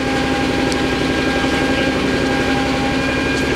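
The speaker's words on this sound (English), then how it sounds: "The live tool's rotating." A Mori Seiki SL-403 CNC turning center with live milling, its live tool spinning at 1500 rpm, a steady even machine hum and whine with a compressor running in the background, no voices.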